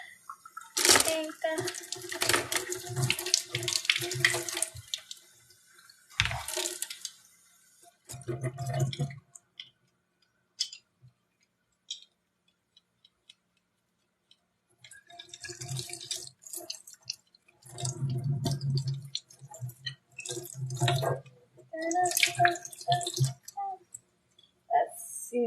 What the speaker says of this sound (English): Now wash the kids' brushes for paint.